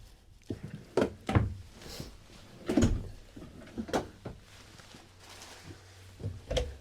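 Drawers beneath an RV wardrobe in a 2024 White Hawk 26FK travel trailer, opened and shut in a string of several wooden knocks and thunks at irregular intervals, close and fairly quiet, with no one talking.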